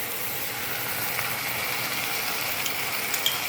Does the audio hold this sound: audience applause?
no